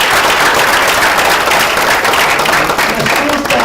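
Loud, dense applause from an audience at a master class session, steady continuous clapping with no pauses throughout.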